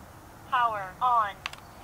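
A Livall Bluetooth bike helmet gives a synthetic voice prompt as it powers on, two short tonal phrases, close and clear, followed by a couple of brief clicks.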